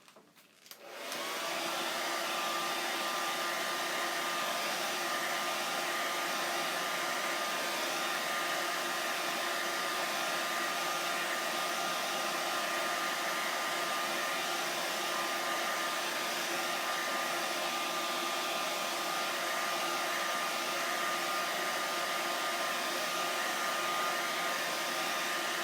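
A hair dryer switches on and blows continuously at a steady, loud whoosh with a faint whine, close by and unchanging for the whole stretch, with no talking.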